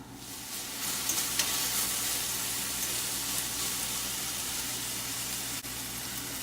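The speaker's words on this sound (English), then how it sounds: "Let it fry till brown." Stuffed-pepper filling fries in a pan with a steady, dense sizzle that fills the whole stretch, close and even, with a faint scrape or two and no voices.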